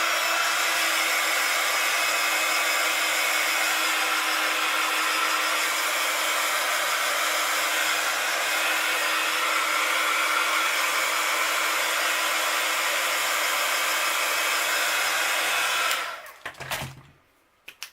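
A hair dryer blows steadily and loudly on fresh paint for about sixteen seconds, close by, then switches off with a brief clatter.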